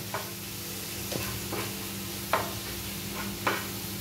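Ginger and garlic fry with dried fish in a pan, giving a steady low sizzle with a few soft stirring scrapes and light clinks spaced through it, fairly quiet and close, with no voices.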